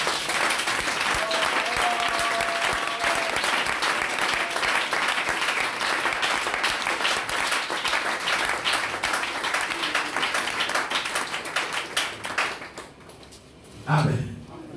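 A church congregation applauding during a pastor's service: sustained, dense clapping from many people fills most of the stretch, then fades out near the end as a single voice rises.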